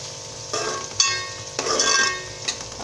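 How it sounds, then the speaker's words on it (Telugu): Onions frying in a pan for a home-cooked broad bean (chikkudu kaya) curry, a steady close sizzle with scraping stirs and light clinks of the utensil against the pan, no voices. "ఆనియన్స్ మగ్గుతూ ఉన్నాయండి"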